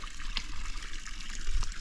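Cold water from an outdoor fountain in Sardinia runs steadily while laundry is washed by hand, a soft continuous trickle and splash up close.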